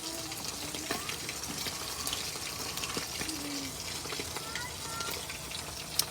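Dried fish (tuyo) frying in hot oil over charcoal, a steady soft sizzle and crackle with faint pops throughout, low and even in level.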